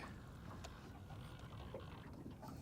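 A fishing boat's engine runs steadily on an inlet, a low continuous drone with wind and water noise throughout, no voices.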